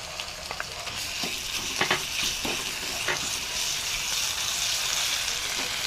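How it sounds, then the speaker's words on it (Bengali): Ground spice paste hitting hot oil with fried onions, a loud steady hiss and crackle close by, with stirring scrapes and utensil knocks scattered through, no talk. "এবার যে মশলাটা বেটে রেখেছিলাম সেই মশলাটা দিয়ে দিব।"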